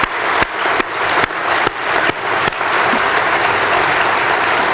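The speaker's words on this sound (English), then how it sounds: "please a big round of applause for everybody who made today's event possible" Audience applause at a city State of the City address in Alpharetta, Georgia: loud, dense clapping fills the hall and continues steadily throughout, with a few sharp bursts early on.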